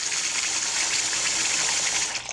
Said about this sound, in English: Then what I do to rinse my brushes is I block the sink up with water